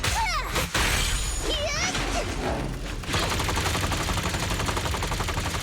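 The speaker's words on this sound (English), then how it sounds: "Oh god, he's shooting me." Rapid enemy gunfire in the action game Zenless Zone Zero, a loud sustained burst of shots layered over dense game music and effects, with a brief dip before the firing resumes steadily.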